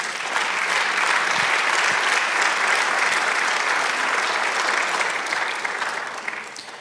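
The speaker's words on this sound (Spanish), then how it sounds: "Dale otro aplauso al Señor." A church congregation bursts into sustained, dense applause that fills the room loudly and evenly for several seconds before tapering slightly at the end, with no voices standing out.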